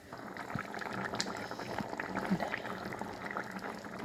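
Fish curry simmering and reducing in a pan, a soft continuous bubbling with small pops, fairly quiet, with a voice talking over it.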